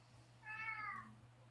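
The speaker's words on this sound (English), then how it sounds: "Meow." A house cat gives a single clear, drawn-out meow lasting about half a second, close by, over a low steady hum in a quiet room.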